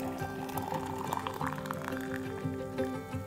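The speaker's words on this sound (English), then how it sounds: "Then pour in boiling water," Boiling water poured from a kettle into a thermos holding raw eggs, a steady liquid fill with a faintly rising gurgle over a soft tonal background, continuous for a few seconds.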